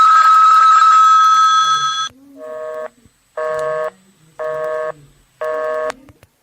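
In a radio drama, a telephone line rings through to a Murray Hill number: a long continuous tone gives way to a low hum, then a series of evenly spaced, buzzing ring bursts with short silences between them.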